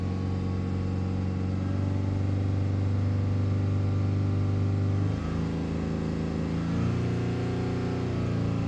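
A Land Rover Defender engine with a P049B-00 fault revs steadily toward about 4000 RPM, a loud continuous mid-pitched drone that holds, dips briefly and climbs again with no talking.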